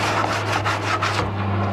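Abrasive rubbing of a sanding block along a carbon fiber reinforcement edge on an Airtech part during an FZR motorcycle restoration, a steady close scraping in repeated strokes with a low hum underneath.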